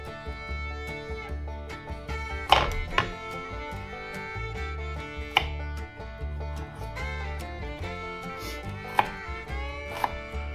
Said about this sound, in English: Chop it up kind of fine.